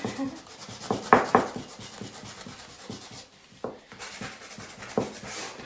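Close rubbing and scraping of sandpaper on wooden pieces of a mini ladder in short irregular strokes, with a faint voice briefly underneath.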